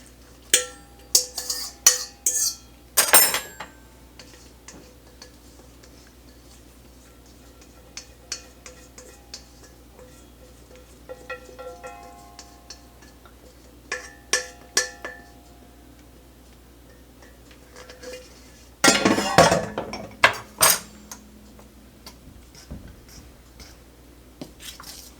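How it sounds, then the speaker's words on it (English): A fork mixes wet and dry ingredients for pumpkin cloverleaf roll dough, giving scattered clicking taps against a bowl in short irregular clusters, with longer bursts of scraping at a couple of points and quiet gaps between. "So with the fork, we're gonna just blend it all together until it's all combined."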